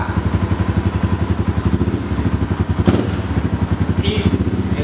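Yamaha Raptor 250 ATV engine running close by, a rapid pulsing putter that rises in a brief rev as gas is added and the clutch is let out.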